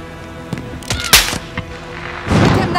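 Gunfire in a Call of Duty military battle near a highway: several sharp shots and booms scattered over a few seconds, with a louder burst near the end and faint game voices around.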